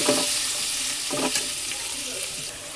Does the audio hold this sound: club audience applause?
no